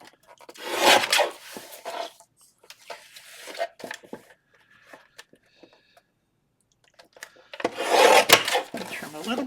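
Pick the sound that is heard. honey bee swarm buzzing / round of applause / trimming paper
trimming paper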